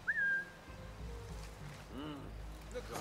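A short, sharp whistle sounds in the video game Assassin's Creed Mirage, one rising-then-flat note at the start, followed by quieter game ambience and faint voices.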